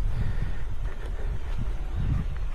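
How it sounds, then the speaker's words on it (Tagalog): Strong, cold wind blows steadily outdoors in a crop field, a continuous low rushing roar with gusty fluctuations throughout and no speech. "Yan yung malakas na hangin na yan"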